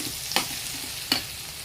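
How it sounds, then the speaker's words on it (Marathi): Green chillies and garlic stir-frying in a pan give a soft, continuous sizzle, broken by two brief scraping stirs of the spoon about a second apart, close and fairly quiet, with no voices. "चला चांगली परतून घेतली मिरची पण"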